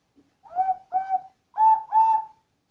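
A clay cuckoo whistle plays four breathy, warbling tones in two pairs, each note wavering slightly, clear and close with no other sounds.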